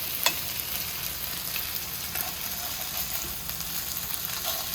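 Beef pieces fry in an oiled pan and are turned with a fork, making a moderate, even sizzle with a few faint clicks.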